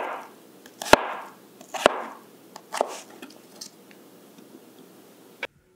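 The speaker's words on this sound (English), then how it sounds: "the sound of the knife hitting the board when cutting the cucumber is a bit jarring on the ears" A knife chopping cucumber on a cutting board, giving a few sharp, jarring knocks spaced about a second apart, with softer slicing rustles between them and a final click, close and quiet overall.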